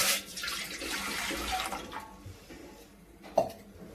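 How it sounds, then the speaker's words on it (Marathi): Water poured from a pot into a cooking pan for pasta, a splashing gush for about two seconds that trails off, followed by a single metallic clink. "तांब्या पाणी टाकते"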